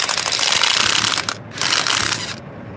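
A ratchet worked in reverse to loosen a tight fitting, with rapid close clicking of the pawl in two bursts separated by a brief pause.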